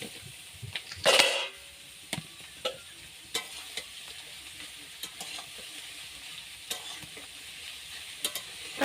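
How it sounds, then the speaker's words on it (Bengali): Pumpkin and onion fry in a pan at home, a soft sizzle under repeated stirring and scraping taps, with one louder splash of sizzling early on, and no talk. "এই যে দেখো আমি এখন কুমড়ো পেঁয়াজ ভাজার পর এই যে এখন কুমড়ো দিচ্ছি।"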